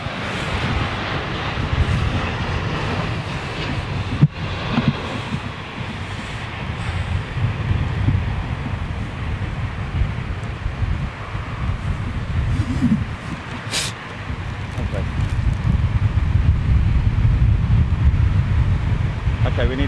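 Blustery wind buffets the microphone outdoors near London Heathrow airport, a steady low roar with gusting swells that build louder toward the end.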